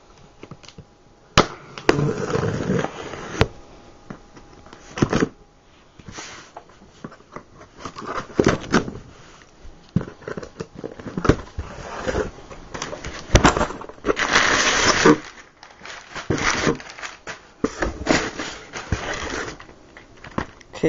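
An airsoft gear shipping package being opened by hand, with sharp irregular crinkling, tearing and rustling of packaging in close bursts scattered through a fairly quiet room.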